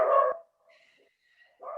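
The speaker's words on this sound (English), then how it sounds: "Happy dogs." Happy dogs give a short bark-like burst, then faint whimpers and whines, ending with another brief yelp, close by in a quiet room.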